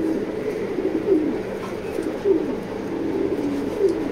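Racing pigeons coo nearby in soft, repeated low calls at a pigeon loft, several rolling coos over a faint background hum, with no talking.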